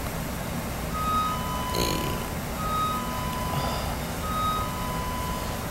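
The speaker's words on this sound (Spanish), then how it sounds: "Todo el tiempo la alarma se está prendiendo y esa es la alarma del sensor de movimiento." Motion sensor alarm in the old La Princesa prison, a thin electronic beep repeating at steady intervals over a constant hum, moderately distant, without talking.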